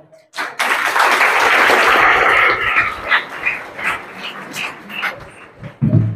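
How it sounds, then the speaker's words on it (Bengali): Students at a school event on waste management clap together in a loud, sustained burst that fades after a few seconds into scattered claps and background noise, with some talking near the end. "আচ্ছা, তোমরা তো হাততালি দিচ্ছ।"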